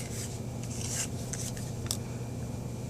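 A tool scrapes green and black nail polish for nail art, making soft, close, intermittent rasping strokes with brief brighter scratches, quiet and with no voices.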